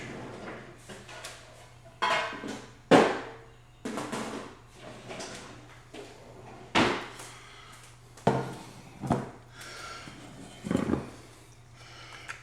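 Kitchen items being shifted around while searching for a baking dish during casserole prep: a series of close knocks, wooden clunks and clatters, some sharp, spread irregularly across the span with short pauses between.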